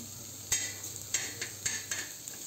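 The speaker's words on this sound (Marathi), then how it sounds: "आता हा कांदा आपल्याला ब्राऊन होईपर्यंत चांगला खरपूस भाजून घ्यायचा आहे" Onion and spices frying in a pan for mutton curry give a soft steady sizzle, punctuated by several sharp scraping stirs of a utensil against the pan, fairly quiet and close.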